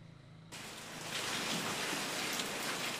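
Steady, dense rain hisses loudly in Mamburao, Occidental Mindoro, starting abruptly after a half-second of quiet hum and continuing as an even downpour.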